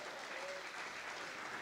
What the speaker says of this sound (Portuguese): dê um aplauso a Jesus, amém?